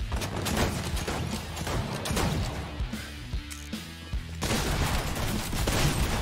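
Dense video game gunfire from a shooter, with rapid overlapping shots and bursts, loud and close, with a short thinner stretch before the firing picks up again.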